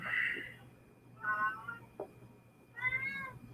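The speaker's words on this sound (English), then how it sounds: "And my cat is being annoying and making sounds." A cat meows three times, close by, with drawn-out, slightly strained calls separated by short pauses in a quiet room.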